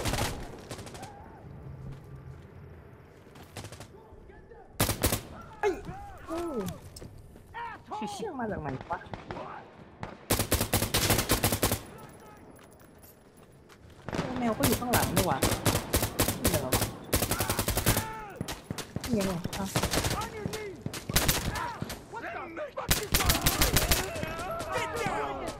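Bursts of gunfire in Insurgency: Sandstorm, in a hardcore night checkpoint match on the map Tell, come in dense rapid volleys and single cracks across the stretch, loud and close, with quieter pauses and someone talking between and over the shots.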